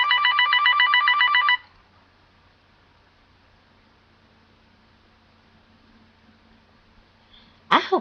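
Telephone bell ringer sounding in rapid, loud metallic trills for about a second and a half, then stopping abruptly, leaving near silence until a short clatter at the very end.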